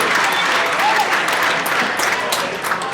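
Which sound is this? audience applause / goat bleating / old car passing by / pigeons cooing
audience applause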